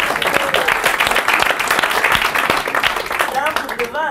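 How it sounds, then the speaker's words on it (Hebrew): An audience at a conference claps and applauds loudly and continuously throughout, with a voice speaking over the clapping. "תנו לעצמכם מחיאות כפיים."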